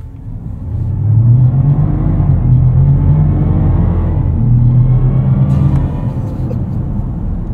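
A BMW 750e xDrive plug-in hybrid with the B58 engine accelerating hard from a standstill, a loud, steady low engine roar with an electronic whir layered over it, building and holding for several seconds close by.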